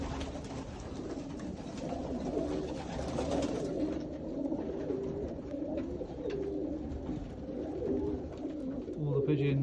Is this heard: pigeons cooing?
yes